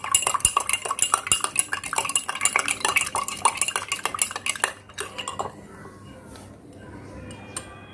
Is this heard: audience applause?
no